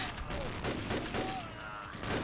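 Rapid assault rifle bursts in the video game Vampire Bloodlines, with dense, repeated gunfire cracks overlapping a voice speaking underneath.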